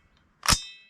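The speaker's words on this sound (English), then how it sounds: "But for now, we're gonna try out this 223 ammo." A single sharp shot from a Foxtrot Mike AR-style rifle chambered in .223 Wylde firing .223 ammunition at a range, loud and close with a brief ringing tail.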